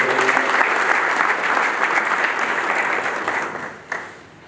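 Sustained audience applause fills a church hall during a Marian Assumption feast celebration, a loud, dense clapping that holds steady for several seconds before tapering off.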